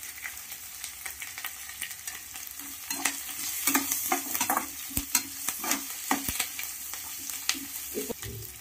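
Curry leaves, coriander, turmeric and spices frying in hot oil as a tempering for poha, a steady close sizzle with crackles and spatters, stirred by a spoon scraping the pan through the middle, no talk.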